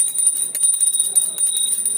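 An exam bell ringing, a bright continuous electric ring with a rapid pulsing rattle that holds steady and loud for the whole stretch, no voices.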